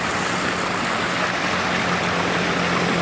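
Water gushes through a cleared drainage channel in a steady, loud broadband rush, continuous and close, with no talking over it.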